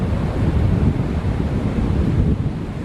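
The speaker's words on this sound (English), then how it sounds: "Yes, this side wash is terrible." Ocean waves wash against and over a small boat near a sandbank, a loud, constant roar of surf mixed with heavy wind buffeting the microphone.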